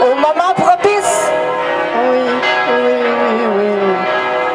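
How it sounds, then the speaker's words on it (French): Church bells ringing with a sustained, resonant tone, a bright strike near the start and humming overtones carrying on steadily, heard alone at moderate loudness. "Et les cloches sonnent encore au moment propice."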